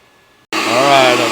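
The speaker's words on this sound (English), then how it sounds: "I've got it on vacuum and pump. So we're sucking the water out of this 200-gallon water tank." A loud, steady mechanical roar kicks in abruptly after a brief silence and holds at a constant level: a vacuum pump sucking water out of a 200-gallon water tank.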